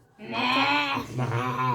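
A person imitates a buffalo crying out in pain from an injection with a loud, drawn-out, wavering bleat-like call. It comes in two close, nasal pulses.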